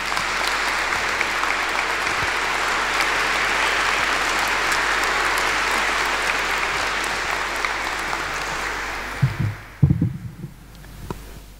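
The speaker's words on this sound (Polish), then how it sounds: "Szanowni Państwo, proszę o wielkie brawa." Audience at a charity Christmas and New Year concert in Bytom applauding, a dense sustained wash of clapping that fades out near the end, followed by a few low thumps and a brief murmur.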